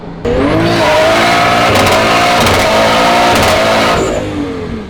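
A loud, close turbocharged JZ engine in a Nissan S13 coupe revs hard and climbs in pitch, roaring continuously for several seconds before easing off, with turbo whine and no talking.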